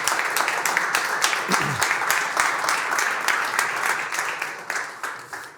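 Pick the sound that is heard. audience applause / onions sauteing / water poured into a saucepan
audience applause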